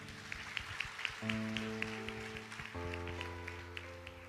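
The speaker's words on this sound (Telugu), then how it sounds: "అందరు గట్టిగా చప్పట్లు కొడదాం." A church congregation claps in a steady, even rhythm, close and moderately loud, over sustained keyboard chords.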